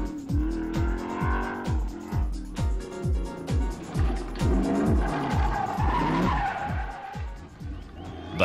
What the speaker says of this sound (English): The undoubted crowd favourites were Owen Parkinson and Mark Parsons in their V8 hatchback Tirana